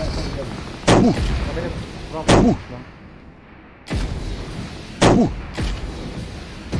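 Heavy gunfire in the PUBG Mobile heavy-weapons mode, with four loud, sharp booming shots spaced about a second or two apart, each ringing out over a low rumbling background.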